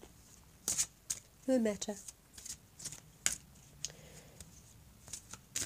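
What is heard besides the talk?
shuffling oracle cards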